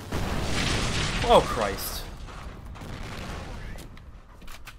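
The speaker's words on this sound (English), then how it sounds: "A lot of explosions here." Gunfire and explosions from the shooter video game F.E.A.R. Extraction Point rumble and crack in a dense, continuous barrage, with a man reacting briefly over the noise.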